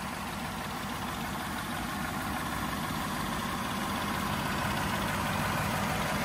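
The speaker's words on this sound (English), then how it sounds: "nice and smooth running engine. There's no odd noises or vibrations" A 2008 Cadillac DTS V8 engine idles smoothly and steadily under the hood, a dense even hum heard up close with no talking.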